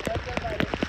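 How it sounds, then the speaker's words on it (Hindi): Steady rain falling on a slippery mountain trekking trail with steps, a constant wet hiss with scattered louder drop impacts close by, and faint other tones mixed in. "लगातार बारिश हो रही है"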